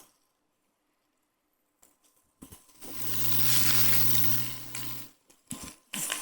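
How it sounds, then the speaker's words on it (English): Loud hiss and sizzle of spinach hitting a hot pan on an induction cooktop, starting abruptly after quiet and crackling steadily for a few seconds before easing off. "can you hear the sizzling sounds?"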